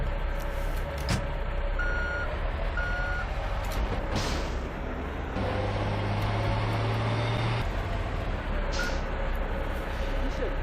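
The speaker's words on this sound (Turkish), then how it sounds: "Böyle bir çöp kamyonu verdi bize." Garbage truck in GTA Vice City backing up, giving a repeated electronic reversing beep at a steady rhythm over loud engine rumble and game ambience, with no one talking.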